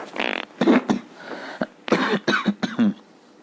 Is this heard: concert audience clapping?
no